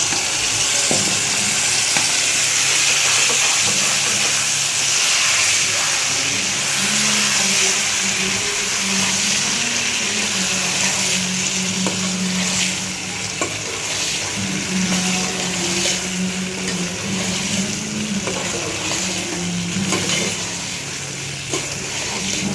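Taro leaves hit hot oil with fried garlic in a pan, giving a steady, loud sizzle and crackle that runs continuously without any talking.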